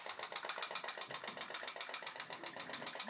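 Homemade pop-pop boat built from a juice carton chugs along in a fast, even putt-putt rhythm, faint and close, each pop a sharp repeating click with no talking.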